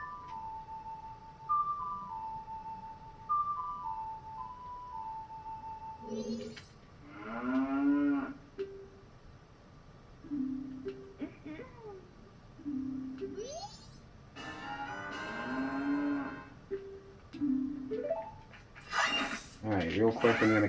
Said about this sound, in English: There's some cows down here.